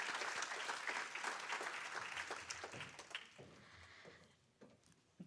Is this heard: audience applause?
yes